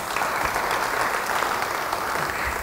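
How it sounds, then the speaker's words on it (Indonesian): A congregation at an Indonesian-language church service bursts into applause, a thick, even wash of many hands clapping that stays loud and steady across the short stretch. "Beri tepuk tangan bagi dia."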